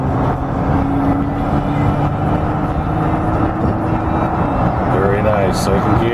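A 2004 Kia Sorento accelerates in first gear, its engine a steady close rumble inside the cabin, heard under a person talking.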